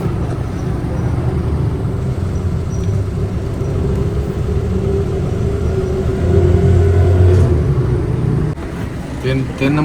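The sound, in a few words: Toyota Passo car engine running rough in garage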